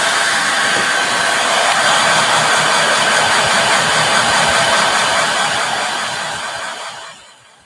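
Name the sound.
hair dryer blowing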